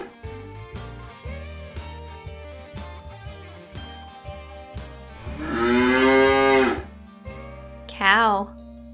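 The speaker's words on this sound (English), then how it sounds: "Cow." A cow gives one long, loud, close moo in a toddler animal-sound guessing game, after a bouncy music bed, and a shorter wavering call follows.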